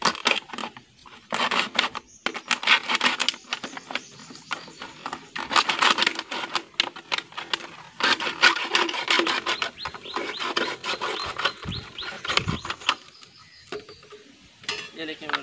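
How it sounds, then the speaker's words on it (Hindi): Knife cutting through a plastic bottle outdoors, a rapid scraping and rasping sawing texture close by with uneven strokes and brief pauses, no talk. "अभी हम छुरी की मदद से इसको जो है यहाँ से काट देते हैं"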